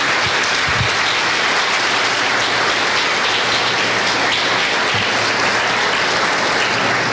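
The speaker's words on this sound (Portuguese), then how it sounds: "Vamos aplaudir." Church congregation applauding during a service: dense, loud, continuous clapping from a large crowd filling the whole stretch without a break.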